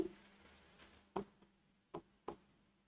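Chalk or marker strokes on a board while writing chemistry notes, a few soft scratchy strokes and then three separate taps or short strokes, quiet and close with no talking.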